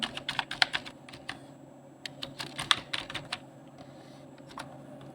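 Bursts of typing on a computer keyboard, entering Bengali text into an online census form, with quick clustered key clicks, a pause, then more strokes tapering to a single tap, close and moderately loud.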